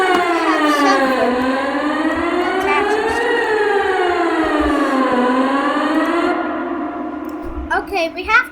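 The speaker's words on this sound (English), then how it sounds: "We're working on tornado sirens now." A tornado siren is tested in a small Wisconsin town, its loud, near wail rising and falling in two slow sweeps before cutting off, followed by brief clattering sounds.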